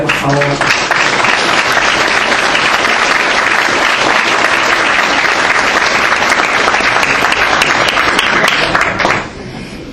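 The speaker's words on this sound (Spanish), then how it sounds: "Pido un aplauso para ella" A seminar audience applauds Andrea Román at a closing session, with dense, steady clapping from a full room lasting about nine seconds before fading, and a voice speaking briefly near the start.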